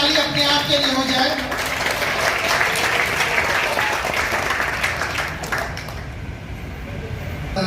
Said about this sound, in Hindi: और एक बार ताली अपने आप के लिए हो जाए।